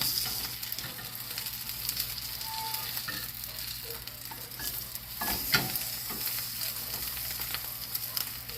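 A cheesy pizza quesadilla crackles and sizzles steadily in hot oil in a pan just after being flipped, a continuous frying hiss with small pops and a faint scrape, with no talking.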